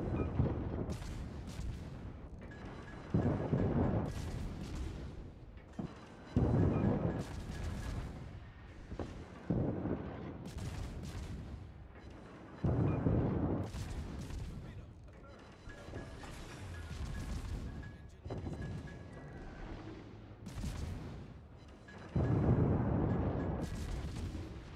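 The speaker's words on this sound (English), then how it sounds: "We got 2 torpedo hits on the Yami down there." Heavy explosions from torpedo hits striking an enemy ship during a World of Warships naval battle, booming bursts recurring every few seconds over a rumbling low background, with occasional faint voices.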